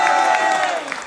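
Audience applause at the Mister Chanté singing contest: a short burst of clapping from a crowd, steady and fairly loud, fading slightly toward the end, with no voices over it.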